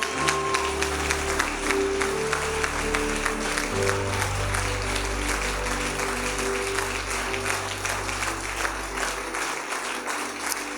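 A church congregation breaks into sustained applause, a dense, steady clapping that fills the whole stretch at close range, with a low organ or keyboard drone sounding underneath.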